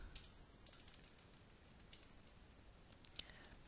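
Light, faint clicking of computer keyboard keys in uneven bursts, with a couple of sharper taps standing out against a quiet room background.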